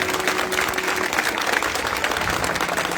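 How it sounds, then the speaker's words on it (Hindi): Congregation clapping loudly for the Lord during a church service, a steady dense wash of applause filling the room for the full stretch with no break. "आए खुदावंद के लिए जोरदार ताली बजाएं"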